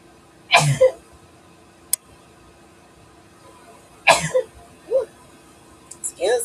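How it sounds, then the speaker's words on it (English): A woman sneezes once, loud and close, in a lab setting, followed a few seconds later by another sharp sneeze-like burst and some short throat sounds against a quiet, humming room. "I already got a sneeze"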